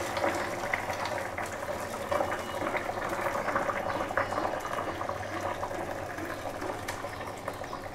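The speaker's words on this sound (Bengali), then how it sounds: "তো এখন এটার মধ্যে দিয়ে দেবো জল আমি আলাদা বয়েল করে লইছি" Separately boiled water pours into a pot of pork curry cooked without oil, producing a steady, dense bubbling and gushing wash that continues evenly throughout, with no voices.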